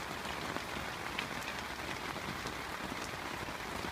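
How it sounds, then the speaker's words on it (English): Heavy rain pours steadily onto a campsite, a dense, even hiss of drops drumming on surfaces, fairly quiet and constant with no voices. "As you can hear, it's still absolutely chucking it down."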